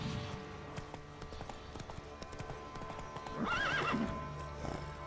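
A horse in The Witcher 3: Blood and Wine clip-clops with steady hoofbeats, then lets out a loud whinny near the end, heard alone without talk.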